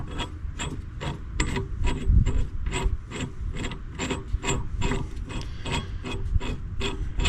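A brake caliper piston tool is turned by hand on the rear brakes of a 2017 VW Jetta, giving a steady run of sharp ratcheting clicks with grinding mechanical rasps between them, close and continuous with no talk.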